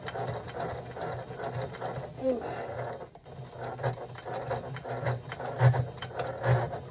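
A sewing machine labors through a thick, heavy seam on a Carhartt hunting coat during a zipper replacement, its motor humming and grinding steadily at close range with a few louder thumps, while a voice briefly exclaims.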